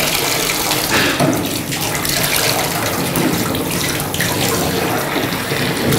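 Tap water runs steadily into a sink as hands are wetted for a surgical scrub, a continuous close splashing hiss with no talk.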